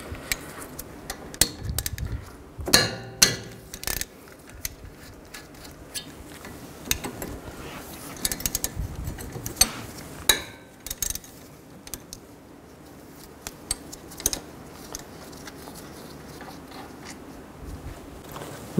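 Brake caliper bolts come off a 2007-11 Honda CR-V front brake with a 14 mm socket while a 19 mm wrench holds the stud, heard as scattered ratcheting clicks and metallic clanks over quiet pauses.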